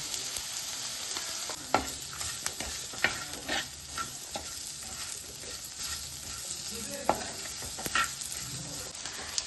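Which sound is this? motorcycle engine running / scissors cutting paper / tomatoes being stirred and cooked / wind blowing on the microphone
tomatoes being stirred and cooked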